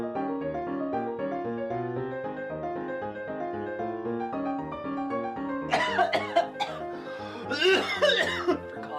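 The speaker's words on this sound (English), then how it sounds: "For coughing." Several harsh, close coughs burst out in quick succession over steady background music during the final few seconds.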